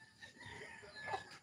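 A chicken gives a brief, faint cluck near the end of a short stretch of low background noise.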